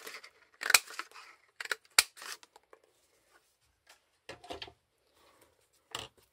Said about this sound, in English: I'm just going to cut 3 out.